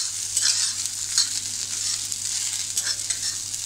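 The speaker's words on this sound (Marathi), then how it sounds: "आणि मोठा गॅस करूनच भाजायची आपल्याला।" Okra frying hard on a high gas flame, a steady loud hiss and crackle running throughout with a few brief spatula scrapes, no voices.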